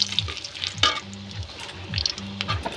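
Dried red chillies and bay leaves frying in hot oil, a loud crackling sizzle with rhythmic stirring scrapes roughly every half second, no voices.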